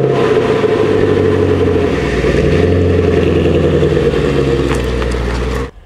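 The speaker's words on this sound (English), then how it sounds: "I'll just show you quick footage of me starting the car as the sun rose this morning." MG ZT260 V8 car on a cold start, the engine running at a loud, rumbling high idle up close, then cutting off abruptly at the end.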